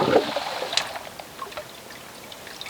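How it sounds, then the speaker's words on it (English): Water swirled around inside a container, close sloshing and trickling that starts louder then settles into faint, sparse dribbles. "Mix that water around evenly."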